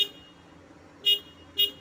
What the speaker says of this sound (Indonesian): Nah seperti itu 3 kali kita bunyikan klakson dulu supaya sebagai tanda isyarat